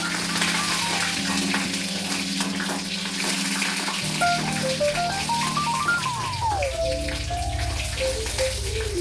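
Dried red chillies fry in hot oil with a constant crackling sizzle, while tonal music runs under it throughout.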